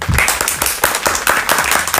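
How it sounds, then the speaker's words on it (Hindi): A man claps for his own song at a family get-together, giving a brisk run of close, fairly loud claps at an even, quick rhythm. "मैं पहला ऐसा व्यक्ति हूँ जो अपने ही गाने पे खुश होकर के ताली बजा रहा हूँ"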